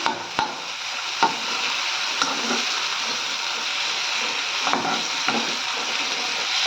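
Potatoes sauté in an oil-filled pan for a capsicum potato thokku, giving a steady close sizzle with a few sharp spatula scrapes and clicks as they are stirred; no one speaks.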